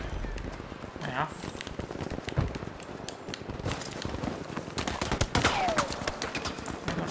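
Battlefield V gunfire crackles in repeated bursts and single shots from several directions, fairly close and loud, amid a busy multiplayer battlefield din with voices talking over it.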